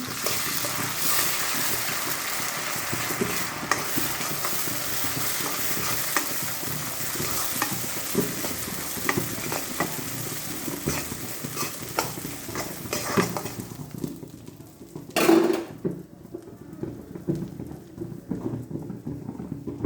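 Panch phoron spices frying in hot oil for an olive pickle, a continuous close sizzle with scattered stirring knocks, a louder clatter near the end, then the frying quietens; no one speaks.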